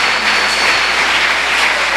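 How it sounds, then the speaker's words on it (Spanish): A church congregation at a pastors' retreat claps together in a dense, loud, continuous wash of applause that fills the hall, with no voices standing out above it. "denle un aplauso al Señor"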